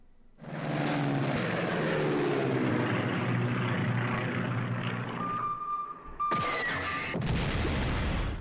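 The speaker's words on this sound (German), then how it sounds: "Französische Abfangjäger fliegen." Propeller aircraft engines drone loud and steady as French interceptor fighters fly in the WW2 strategy game Strategic Command WW2, the roar holding for several seconds before being cut by short bursts of sharper noise near the end.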